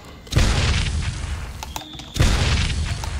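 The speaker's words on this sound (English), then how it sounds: "Go to the SFX, click on explosion sound effect" Large explosion sound effect from an Adobe After Effects tutorial: a deep booming blast with a rumbling tail, followed by a second heavy boom, loud and alone with no talking.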